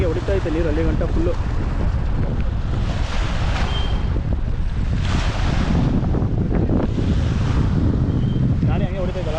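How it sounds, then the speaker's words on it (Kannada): Water rushing and gushing at full flow, a loud continuous roar heavily buffeted by wind noise on the microphone, with faint voices in the background. "ಏನು ಫುಲ್ ಹಂಗೆ ಹೊಡಿತಾ ಐತೆ ನೀರು, ಅಲ್ಲಿ ಗಂಟ ಫುಲ್ಲು."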